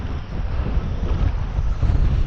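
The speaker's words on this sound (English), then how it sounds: "I thought the wind was starting to calm down a little bit. Guess not." Strong, steady wind buffets the microphone on West Hawk Lake while fishing from a boat, a continuous low rumble mixed with water and hull noise, with no voices.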